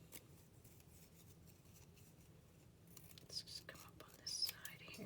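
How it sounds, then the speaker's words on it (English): Scissors snipping through paper index cards for Halloween tabbed cards, a few faint, quick crisp cuts late in the clip over a very quiet, hushed background. "Scissors."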